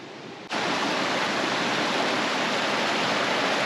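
Waterfall and rapids at Pete's Dam in Ontario, a loud, steady, broadband rush of falling water that swells in abruptly and holds constant with no voices.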